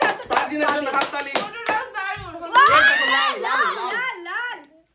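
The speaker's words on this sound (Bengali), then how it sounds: "হাততালি হোক সার্জিনার জন্য, হাততালি" Children clapping for a girl named Sarjina during a box challenge game, a few sharp claps at the start, then children's chatter and an adult voice talking over them.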